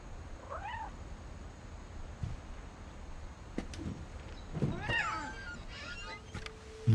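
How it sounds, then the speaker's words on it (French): A kitten meows in the video game What Remains of Edith Finch, with a few short high mewls rising over a soft ambient hush, alongside scattered thumps and a brief wooden creak. "Le petit chat."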